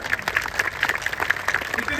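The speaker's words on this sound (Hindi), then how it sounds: "अपने कवियों से कहता हूँ कि एक बार आपके लिए तालियां" An audience at a Hindi comic poetry gathering claps for the poets, a dense, steady patter of many hands that carries evenly through the whole stretch without pause.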